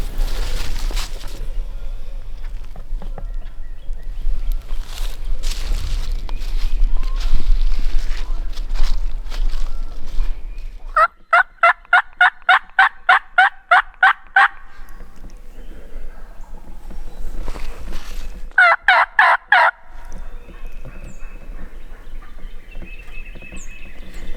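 Two bursts of rapid, rattling wild turkey gobbling ring out amid outdoor rustle, the first longer, the second brief, with quiet stretches around them.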